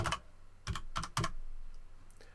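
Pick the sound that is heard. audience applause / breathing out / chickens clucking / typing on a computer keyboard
typing on a computer keyboard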